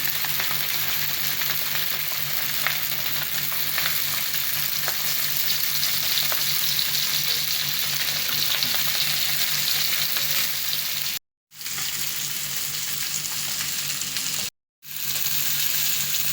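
Sankara fish fries in oil in a pan, a loud, continuous close sizzle with crackling and occasional stirring, broken by two brief cuts of silence.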